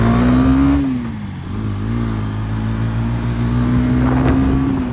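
Vehicle engine revving hard and sustained, a loud droning roar that dips briefly and climbs again, close by with no talk.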